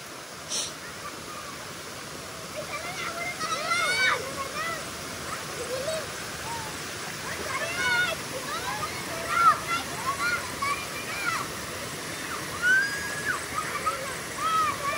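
Water rushes steadily along an irrigation canal as a soft, constant wash, while children play and shout nearby and an adult talks over it.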